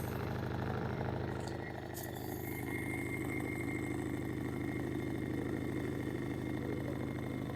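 A pull-started engine idling, a steady low rumbling drone that runs close and continuous throughout with no voices.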